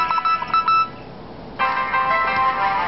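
Sony Ericsson TM506 phone alarm ringtone, bright electronic beeping melody played from the handset speaker, pausing briefly then resuming clearly and close.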